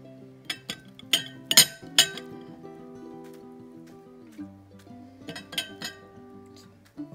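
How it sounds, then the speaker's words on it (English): Mandarin orange slices being added to an arugula fruit salad, with a few sharp clinks and taps of a utensil against a bowl near the start and more soft clinks later, heard close up in a quiet room. "We're going to add some mandarin orange slices."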